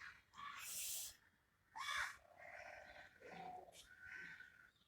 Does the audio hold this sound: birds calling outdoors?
yes